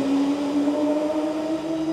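A train rolls in slowly toward a station platform, a steady rumble with sustained tonal hum and faint squeal, moderately distant and without voices.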